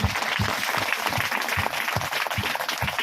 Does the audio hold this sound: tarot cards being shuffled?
no